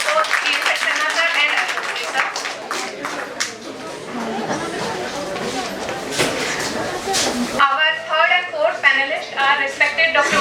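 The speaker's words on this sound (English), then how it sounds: "Please give him a huge round of applause." Audience at a literature festival gives a speaker a round of applause, clapping and murmuring for several seconds before it thins and a single voice comes in near the end.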